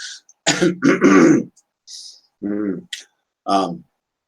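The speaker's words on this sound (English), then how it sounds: "here comes my cough" A person clears their throat and coughs several times in short, close bursts separated by silences, with small mouth clicks between them.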